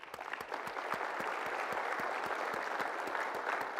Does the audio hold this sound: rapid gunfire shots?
no